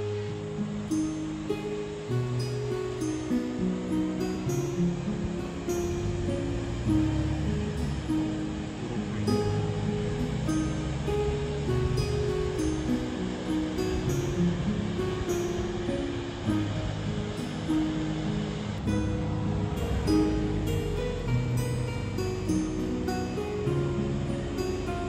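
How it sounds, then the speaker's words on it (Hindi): A waterfall at Sajikot in northern Pakistan gives a loud, unbroken rush of falling water that fills the whole stretch, steady and close with no voices. "अच्छा जी, तो ये थी सजी कोट वाटरफॉल"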